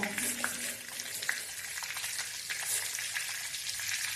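Crushed cumin, cardamom and cinnamon fry in melted butter and oil with a close, steady sizzle. Small sharp pops and crackles are scattered through it, and no one speaks.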